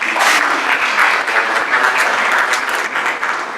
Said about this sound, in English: So I can say a round of applause again.